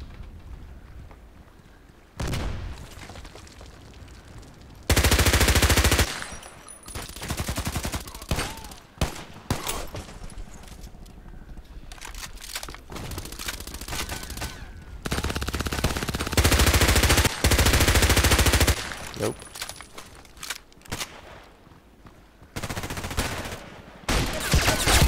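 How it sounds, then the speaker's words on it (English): Gunfire in the online shooter Contract Wars, with an MP5k fitted with a silencer, sounding in repeated loud machine-gun bursts and single shots separated by short quieter pauses throughout. "Oh yeah, he shot at me."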